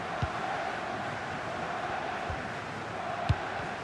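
A football video game stadium crowd in career mode sends up a steady, dense roar that holds throughout, with a few faint thumps rising above it.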